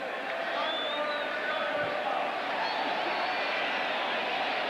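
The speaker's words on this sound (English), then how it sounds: "Boo your own team, fans." A football stadium crowd at a 1989 Denver Broncos at Washington Redskins game booing its own team, a steady, distant wash of massed voices holding at an even level throughout, with a commentator talking over it.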